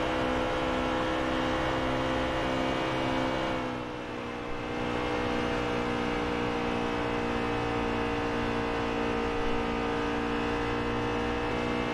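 A race car engine held at full throttle in a NASCAR-style racing video game at Las Vegas, a continuous loud droning whine with a brief dip partway through, no talking over it.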